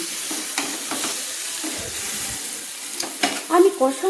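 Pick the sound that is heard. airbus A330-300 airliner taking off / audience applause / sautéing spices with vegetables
sautéing spices with vegetables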